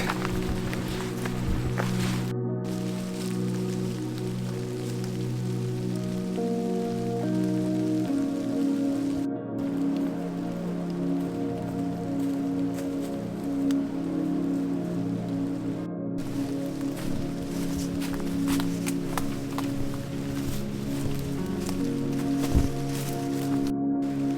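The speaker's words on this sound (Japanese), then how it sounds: "パラパラ雨が降ってきました" Light rain patters steadily on a mountain trail on Mount Hiwada while a hiker's footsteps crunch along underneath, with a continuous low background throughout.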